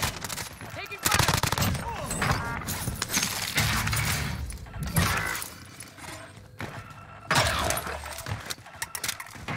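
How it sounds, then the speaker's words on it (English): Bursts of automatic gunfire with shattering impacts in a Warzone match on Rebirth Island, loud and close in several heavy volleys separated by short lulls, with voices faintly underneath. "Taking fire."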